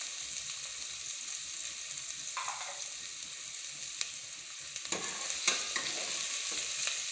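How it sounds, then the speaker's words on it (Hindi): Finely chopped onions frying in oil in a pot give a steady close sizzle, with occasional stirring scrapes and a few louder crackles toward the end. "हम इसके अंदर प्याज डाल देंगे, बारीक कटा हुआ प्याज। अब इसको अच्छी तरह से तल लेंगे।"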